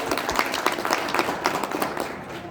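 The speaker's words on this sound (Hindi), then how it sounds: "आप लोगों को एक उत्साहवर्धक ताली जो है सो बजाना चाहिए" Steady, dense applause from an audience at a district conference, many hands clapping together and filling the hall without a break.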